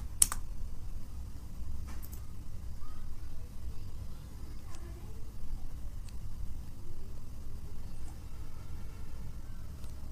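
Someone typing on a computer keyboard to search for a wallpaper: sparse, close keystroke clicks spread over the whole span above a low background rumble.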